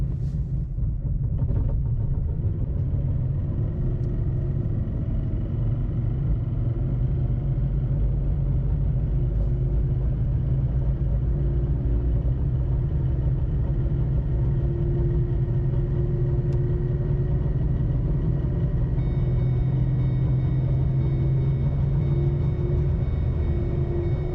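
A car engine runs in fourth gear with a vibration near 3000 RPM, a steady low rumbling drone with a faint whine layered on top, constant throughout.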